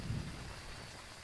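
Steady rain falls across an outdoor map in Phasmophobia, a dense wash of hiss with a low rumble at the start, fairly faint and continuous with no voices.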